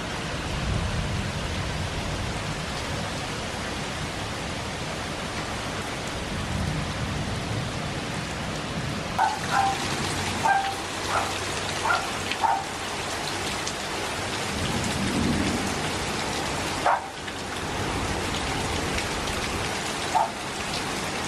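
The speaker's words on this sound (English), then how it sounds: "this storm just came out of nowhere" A sudden summer thunderstorm pours steady, heavy rain in a dense, even hiss, while faint rumbles and scattered sharper drips and knocks break through now and then, with no talking.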